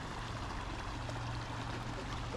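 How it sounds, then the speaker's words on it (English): A shaded brook in the Hassayampa River Preserve flows in a soft, steady wash of water, constant and fairly faint with no talking. "Look at that brook just kind of coming through the shade."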